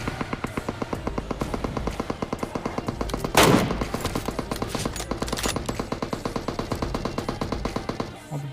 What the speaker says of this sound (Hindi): ये बंदा फायरिंग किस पर कर रहा था